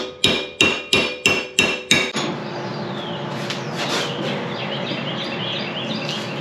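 Six sharp, evenly spaced hammer blows ring on sheet metal as it is bent to a right angle while rusted body panels are repaired on a Jeep, followed by quieter shop noise with faint scraping.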